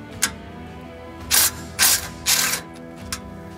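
A ratchet wrench fitted with a 16 mm socket backs out bumper bolts on a Jeep Scrambler, giving three loud, close bursts of rapid clicking with a couple of single clicks before and after.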